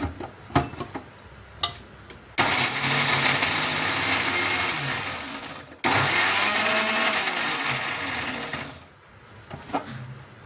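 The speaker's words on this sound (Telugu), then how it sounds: "ఇప్పుడు మిక్సీ పట్టుకుందాం." A kitchen mixer grinder blending garlic, green chillies and salt, roaring loud and close in two bursts of a few seconds each, with brief clatter of the jar before and after.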